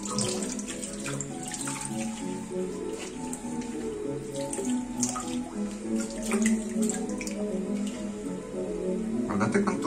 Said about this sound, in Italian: Tanto apro l'acqua fredda